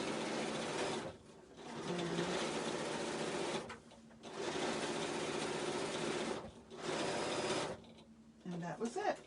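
Sewing machine stitching bias binding onto a quilt, running in three long bursts of steady whirring separated by brief pauses, close and loud.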